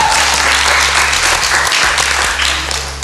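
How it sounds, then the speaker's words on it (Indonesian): Office staff applauding during a theology quiz game, a loud burst of clapping from a group that holds steady and then tapers off at the end, over a low background hum. "Mari kita beri tepuk tangan."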